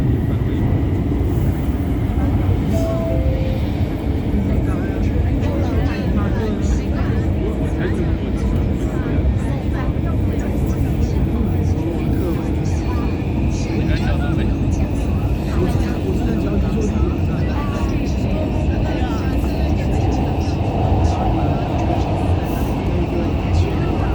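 Ride aboard a Guangzhou Metro Line 1 train between Tiyu Xilu and Chen Clan Academy, a constant loud rumbling roar of the carriage in motion, steady throughout with faint tonal whine and murmured voices underneath.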